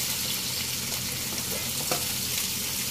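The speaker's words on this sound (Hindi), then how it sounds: "और साथ ही साथ अब हम इसके अंदर शामिल करेंगे हरी मिर्चें और हरी मिर्चों को भी इसके साथ फ्राई करेंगे।" Green chillies and okra fry in hot oil for masala bhindi, giving a steady close sizzle with a faint stir partway through.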